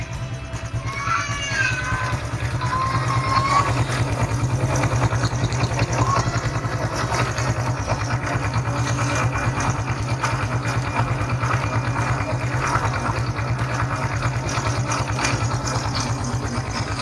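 Honda Supra X 125 R PGM-FI motorcycle from 2014 idling close up, a steady, smooth, low engine rumble that runs evenly throughout with no talking.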